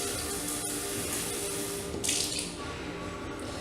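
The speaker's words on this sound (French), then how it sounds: "un grand verre à eau que je remplis d'eau" Tap water running steadily into a large drinking glass in a home kitchen while cooking duck confit, a continuous close splashing stream with a slight rise in tone as the glass fills.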